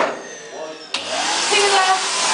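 A household vacuum cleaner runs indoors with a loud, steady whine that jumps in pitch and intensity partway through as the motor surges, continuing close and unbroken to the end.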